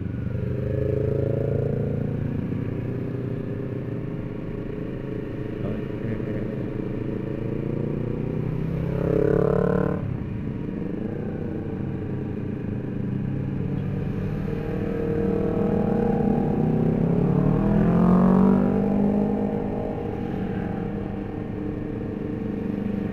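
A group of Honda CBR250RR motorcycles rides together, engines droning and rising in revs as bikes pass nearby, with a swelling and fading roar over steady wind and road noise.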